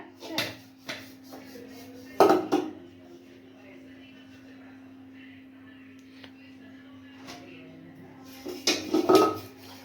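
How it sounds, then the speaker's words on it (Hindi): A child washes dishes, pots and utensils at home, with clattering bursts of metal and crockery near the start and again near the end, quieter handling between, and a steady hum underneath. "इसलिए आज आप बर्तन धो रही हैं।"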